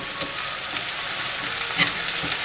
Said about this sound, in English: So now I'm just going to saute this down.